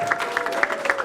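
A brief burst of audience applause at a mentoring program year-end celebration, honoring students, with distinct individual claps standing out in a moderate, close crowd.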